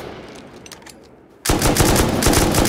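Loud, rapid automatic gunfire erupts suddenly partway through during an online raid defense in a video game, a dense sustained burst of shots following a quieter stretch of background noise.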